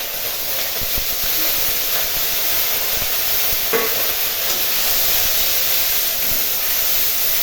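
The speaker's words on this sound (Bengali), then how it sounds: "পেস্ট করে টমেটোটা দিয়ে ভালো করে নাড়বো" Tomato paste with ginger paste stirred in a hot pan for chhanar kofta, a steady close sizzle and hiss with soft scraping strokes and one brief clink partway through, no talking.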